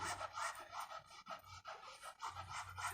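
Dog panting rapidly and steadily, a rhythmic breathy in-out pattern close to the microphone, running continuously with brief pauses, heard alone in a rural Vietnamese village setting.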